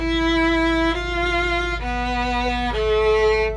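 A sustained bowed string instrument plays the four-note DSCH motive backwards, four slow, held notes in turn, each note long and resonant, with a faint steady hum underneath.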